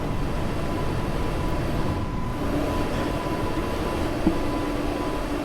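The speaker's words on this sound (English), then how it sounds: "Oh, there goes a D stock." London Underground D stock train passes in a train simulator game, a steady rumbling roar of wheels and motors with a faint high whine and a brief squeal near the end, no voices.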